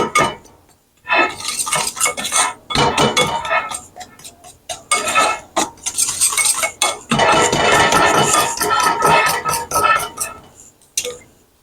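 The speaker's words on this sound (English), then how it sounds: "I'm going to mix all this up. Mix all this up first before you add the shortening." A whisk rattles and scrapes quickly against a bowl while mixing the dry ingredients for a cherry cobbler, in close bursts of rapid clinking with brief pauses between them.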